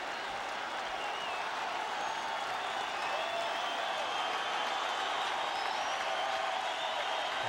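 A baseball crowd at Shea Stadium during a Phillies vs Mets game makes a steady, broad roar of cheering and applause that carries on throughout, fairly even in loudness, with no voices standing out.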